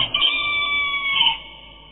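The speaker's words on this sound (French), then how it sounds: "Et aussitôt, un coq chanta." A single rooster crow, used as a sound effect in a Gospel reading, rings out loud and close as one drawn-out call lasting under two seconds, with no voice over it.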